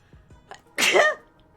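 A single sharp sneeze close to the mic, preceded by a couple of faint breaths.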